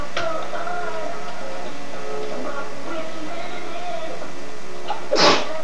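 A single sharp sneeze bursts out near the end, after a stretch of steady background hum and faint tonal noise, with no talking.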